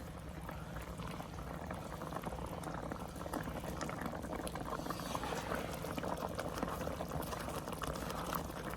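Moong dal halwa made from premix bubbles steadily in a pan on the stove, a continuous, soft close-up simmer with no voices.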